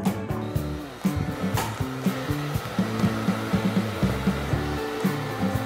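Three hair dryers run together as a load on a 24V battery inverter, giving a steady loud whooshing drone with stepping motor tones and repeated small pulses.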